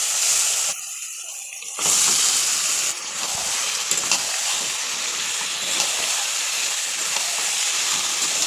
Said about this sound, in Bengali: এবার এর মধ্যে মাংসটা আমি দিয়ে দেবো আসলে।